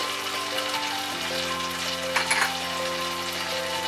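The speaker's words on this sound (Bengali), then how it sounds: "এবার এর মধ্যে আমরা সরষে বাটাটা দিয়ে দিচ্ছি। সেই সঙ্গে পরিমাণ মতো নুন" Mustard paste and salt frying in a pan over a medium gas flame for Bengali fish curry, a steady close crackling sizzle with a brief burst of louder spatter partway through.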